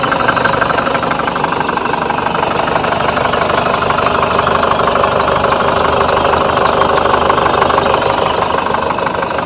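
The Toyota Tavera diesel engine idles steadily up close, a continuous rough knocking clatter with an even rhythm and no voices over it.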